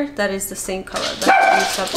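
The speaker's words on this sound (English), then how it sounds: "Sorry for the dogs." Dogs bark in short repeated yaps under someone talking, the barks fairly close and intermittent.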